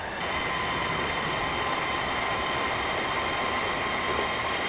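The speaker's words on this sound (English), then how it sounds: "Look at that! That is one nice freaking train." A train runs through the Transport Fever video game with a steady, dense rolling rumble and a hiss, loud and unbroken from start to end, with no talk.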